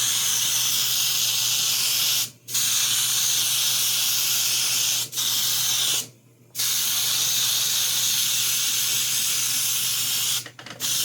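An airbrush spray gun sprays Mecha color paint thinned with thinner, a steady loud hiss that cuts out briefly three times between bursts.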